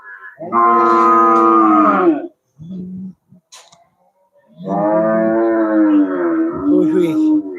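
Cows at a busy cattle market in Melapalayam give two long, loud, drawn-out moos separated by a pause with brief low sounds, close by.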